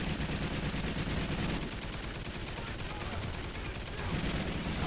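Rapid automatic gunfire from Call of Duty Ghosts Extinction, a dense continuous rattle of shots that eases slightly mid-clip before building again, with faint game noise underneath.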